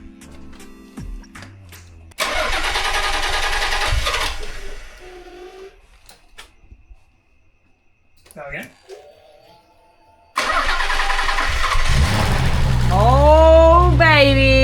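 A 1990s-era Nissan 300ZX engine, a barn find, after a timing belt service: a loud mechanical roar bursts in, cuts out into near silence, then returns strongly with a person exclaiming over the steady running noise at the end.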